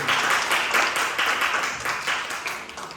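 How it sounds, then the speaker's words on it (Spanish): Church congregation applauding together in steady, dense clapping at a sermon, rhythmic bursts pulsing across a few seconds with no voices on top. "¿Cuánto le pueden dar un aplauso a Rey de Reyes y al Señor de Señores?"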